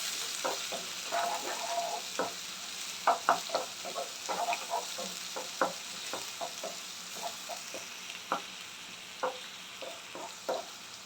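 Onions fry in a pan with a faint, steady sizzle broken by scattered light pops and crackles, quiet and fairly distant throughout.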